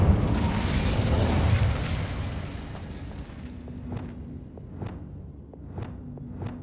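An Incendio fire spell from Hogwarts Legacy bursts loudly with a roaring, crackling blast for about two seconds, then fades into quieter footsteps and light clanks.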